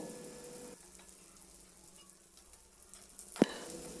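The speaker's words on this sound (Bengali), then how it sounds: "বেগুনটাও আমি বেশ লাল লাল করে ভেজে নেব।" Eggplant pieces frying in oil in a pan, a soft steady sizzle up close with a single sharp clink near the end, quiet and without talk.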